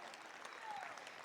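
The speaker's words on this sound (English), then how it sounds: "Let's give a big round of applause for everyone who's already made a donation tonight" Applause from a gala audience for donors who have already given, a short, fairly quiet patter of clapping with a faint whistle-like tone briefly rising above it.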